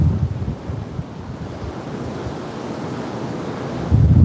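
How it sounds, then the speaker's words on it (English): Wind lashes choppy water into a steady close roar of surf and gusts, with heavy wind buffeting on the microphone that grows stronger near the end of the short stretch. "Wow, the water is really whipping up there."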